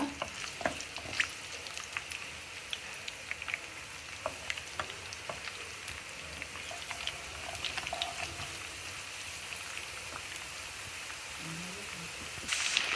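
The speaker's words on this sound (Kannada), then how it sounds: "ಶೇಂಗಾ ಬೀಜ ಹಾಕ್ತಿದ್ದೀನಿ" Peanuts are added to hot oil with a little garlic for a khara avalakki snack, frying in a steady low sizzle, with scattered stirring clicks and scrapes throughout and a brief louder clatter near the end.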